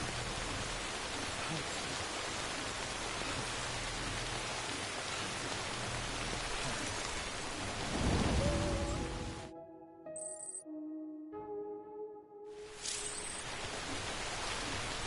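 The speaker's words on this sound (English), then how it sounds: "no end to this rain" Steady rain hisses loudly in the video game Death Stranding, then breaks off briefly for a few electronic game tones before the downpour resumes.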